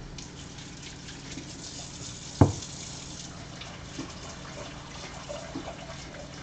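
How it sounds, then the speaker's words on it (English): Tap water running quietly into a sink to rinse potatoes and wash off the starch: a soft continuous hiss with one sharp clunk partway through and a few small splashes. "I rinse them off, I'll fill it up with water, drain it, and then I'll keep doing that until the water's clear."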